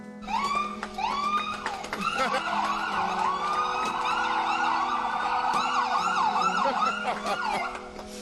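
Emergency vehicle sirens wail through empty streets, several overlapping in a rising and falling chorus that stays loud and steady throughout, with no talking.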